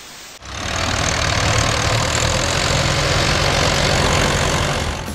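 A tractor engine idles loudly and close after a short silent start, a dense and steady rumble that holds its level with no voices.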